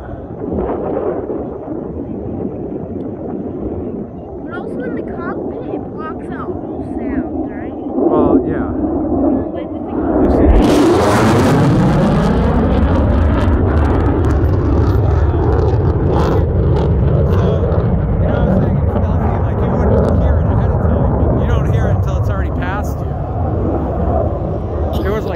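Loud jet aircraft roaring overhead, building to a thunderous peak as it passes, then a long rumbling fade, with people talking underneath.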